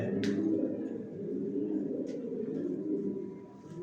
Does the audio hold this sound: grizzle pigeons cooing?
yes